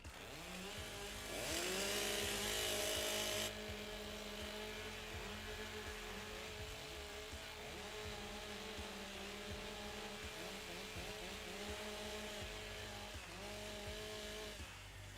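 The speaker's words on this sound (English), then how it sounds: "Warm up your saws." Several chainsaws idle and rev at a timbersports championship in Australia, engines revving up and settling down in repeated loud bursts, one saw screaming briefly at high revs before the others keep buzzing steadily.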